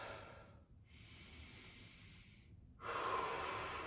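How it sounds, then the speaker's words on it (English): A person lies on their back on an exercise mat and takes slow, deep breaths, with long airy inhales and exhales rising and falling close to the microphone and no speech. "Take a few deep breaths in and out."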